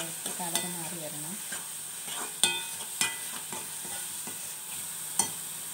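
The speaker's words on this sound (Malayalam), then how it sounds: "ഉള്ളി നല്ലതുപോലെ വഴന്ന് വന്നിട്ടുണ്ട്." Onions sauté with salt in a pan under a faint, steady sizzle, with a few sharp spoon taps and scrapes against the pan at irregular intervals, close but quiet.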